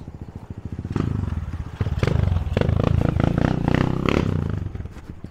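A motorcycle pulls up at a hotel resort in the Philippines, its engine a close, loud, steady throbbing rumble with rapid pulsing beats and some clatter throughout.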